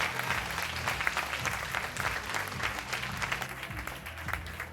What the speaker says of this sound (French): ils méritent vraiment des applaudissements